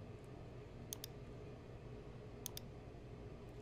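Two quick double mouse clicks, faint and crisp, sound on a Save Changes button in a billing program, separated by about a second and a half of quiet room hiss.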